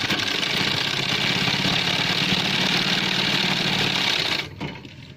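A sewing machine stitching a gents shirt sleeve, a loud, steady, rapid mechanical whir that runs continuously, then stops abruptly near the end.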